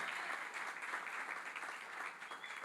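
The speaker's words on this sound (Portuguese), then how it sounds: "Você pode aplaudir o nome do Senhor Jesus pela vida dos nossos pastores?" A church congregation applauds, steady crowded clapping that sounds faint and distant, continuing evenly with no voices on top.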